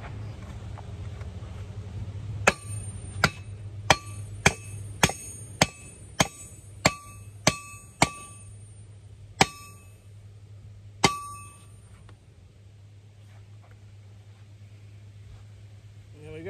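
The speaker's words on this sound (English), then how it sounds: "I need to pound it in." A hammer pounds a mount into place on a 1927 Ford Roadster with about a dozen sharp, ringing metallic strikes. The blows land in a fairly quick rhythm and then space out over a low steady hum.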